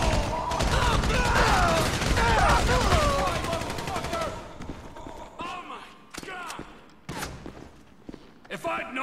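Gunfire in GTA 5 rattles in a dense, continuous barrage under shouting voices and game noise, then thins to scattered sharp single shots and clatter.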